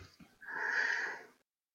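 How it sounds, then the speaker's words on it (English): A tired gamer's yawn: a long, breathy, wheezing exhale lasting about a second, rising and fading close to the microphone, preceded by a brief sniff. "I had to yawn there"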